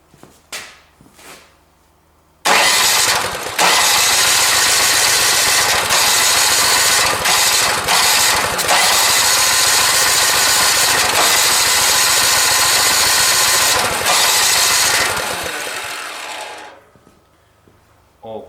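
A new snow blower's small engine, with suspected fuel and carburetor starting trouble, starts abruptly and runs loud and steady at high revs for about twelve seconds before winding down, with faint clicks before it starts.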